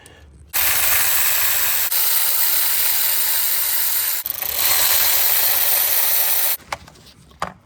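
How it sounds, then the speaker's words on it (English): A ratcheting tool or power driver loosens T30 bolts on the thermostat housing of a VW Audi 2.0 engine, two loud sustained runs of whirring ratchet noise with a short pause between, then quieter clicks. "So once you unbolt these 5, you simply pull it out a bit that way, and it comes out."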